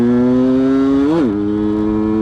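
Yamaha F1ZR two-stroke motorcycle pulling hard in second gear, a loud close buzzing engine note that rises, dips briefly at a shift, then holds steady.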